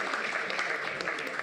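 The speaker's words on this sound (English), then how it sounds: "Can we have a round of applause for you now, everyone?" Seminar audience applauding in Manchester, a dense, steady patter of many hands heard briefly from within the room.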